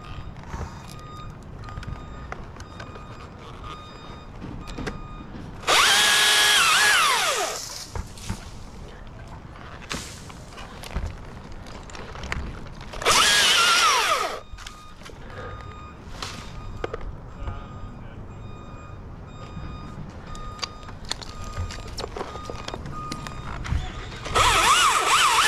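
A new Makita battery chainsaw revs in three short, loud, whining bursts separated by quieter outdoor work sounds and occasional beeping in the background.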